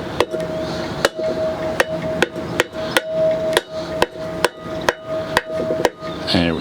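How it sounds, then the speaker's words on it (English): A mallet taps a part into an RV wheel hub during wheel bearing maintenance, giving a steady series of sharp, evenly spaced knocks about once per second, close and clear over a faint background hum. "I'm gonna go ahead and use the mallet here just to kind of tap it in"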